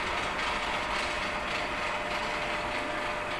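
A DC shunt motor under load on a machine lab bench whirs with a dense, steady mechanical rattle and hum, continuous and close with no voices.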